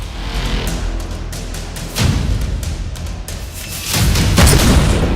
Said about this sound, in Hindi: फिर धमाका